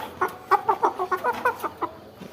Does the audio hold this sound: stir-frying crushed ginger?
no